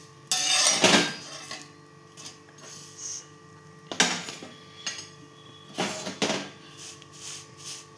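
A carrot paratha being flipped on a griddle, with a few distinct clattering handling sounds spaced several seconds apart over a low steady background hum, close by with no talking.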